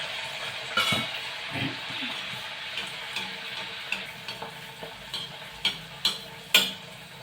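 Jowar (sorghum) vadas sizzle and fry in hot oil as a batter ball is dropped in, a steady crackle with a few sharp clinks and stirring taps, close and moderately loud with no talking.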